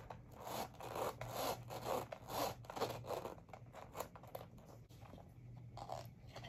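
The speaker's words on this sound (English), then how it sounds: "Let's try the zipper, because you know me and zippers." Close, quiet rasping of a zipper being worked back and forth along a small Louis Vuitton leather good, several uneven pulls with slight pressure and brief pauses, alone with faint background hum.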